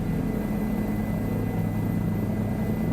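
A small plane's engine held at full throttle in Microsoft Flight Simulator 2020, a steady, loud propeller drone with a constant low hum and no breaks, heard alone throughout.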